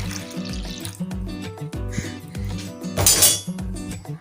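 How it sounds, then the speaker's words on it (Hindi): A glass of water is poured into an egg and milk mixture in a home kitchen. A close, splashing pour swells near the end, with light clinks of glass and dishes and no voices. "और साथ ही इसके हम 1 गिलास पानी इसमें ऐड कर देंगे।"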